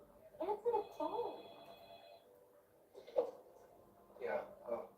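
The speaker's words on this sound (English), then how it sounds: "Answer the phone." A telephone bell rings in a short electronic trill near the start, mixed with overlapping voices and low background noise, and the talk carries on after the ringing stops.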